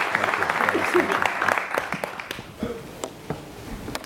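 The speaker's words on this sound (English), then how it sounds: "So give her a round of applause for being here today" Audience applause at a Capitol Hill panel event, a brief burst of scattered clapping that thins out over a few seconds amid room noise, with faint voices underneath.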